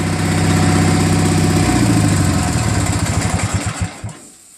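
Murray garden tractor opposed-twin engine, freshly fitted with a new magneto and spark plugs, idling steadily and loud up close, then sputtering and winding down to a stop.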